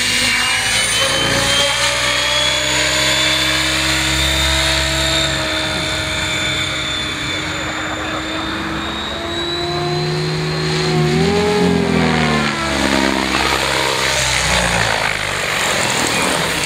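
A Logo 600 radio-controlled model helicopter flies with a steady, loud turbine-like rotor whine and shifting pitch that rises and bends around the middle, continuous and close throughout with no talk.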